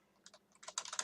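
Keys tapped on a computer keyboard while coding, a quick irregular run of clicks that starts sparse and grows denser and louder toward the end, close and clear with no talking.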